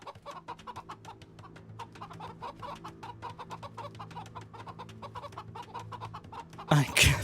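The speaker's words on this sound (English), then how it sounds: "We're gonna scout with my chickens." Chickens in the Age of Empires 2 strategy game cluck in a steady rapid patter of short calls over a low hum, ending with a brief louder burst.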